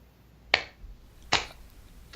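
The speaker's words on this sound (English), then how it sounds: "Yeah, slow claps." Three slow, evenly spaced hand claps, each sharp and crisp and close by, with quiet pauses in between and no talking.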